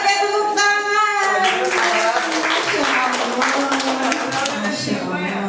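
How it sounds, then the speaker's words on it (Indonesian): A group claps hands together in a steady, dense patter during a school-style gathering, with a melodic background tune playing throughout and the clapping continuing to the end. "Oke, tepuk tangan."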